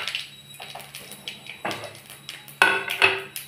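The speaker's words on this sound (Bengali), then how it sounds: "আর তেজপাতা দিয়ে আমি একটু নেড়ে নেব" Cumin seeds and a bay leaf stirred in hot oil in a pan, with scattered metallic clinks of a spoon against the pan, a louder scrape and ring toward the end.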